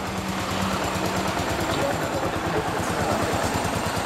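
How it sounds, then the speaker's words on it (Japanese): A 2005 Yamaha SR400 motorcycle engine idles close by with a steady, rapid putter that holds evenly throughout. "いやエンジン調子良さそうだよね"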